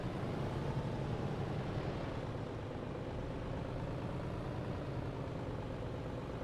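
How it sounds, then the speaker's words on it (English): Truck engine in TruckersMP droning steadily at low volume, a continuous heavy idle-like rumble with no talk over it. "What is that engine sound?"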